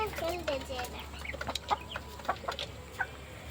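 Hens and young chicks cluck and peep on a poultry farm, soft scattered calls and light pecking ticks at a moderate distance over a low steady hum.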